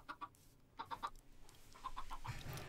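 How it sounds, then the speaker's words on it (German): Minecraft chickens clucking, scattered short clucks coming in small bursts of two or three, fairly soft and close, with a low rumble rising toward the end and no speech. "Hühner, ihr seid im Weg."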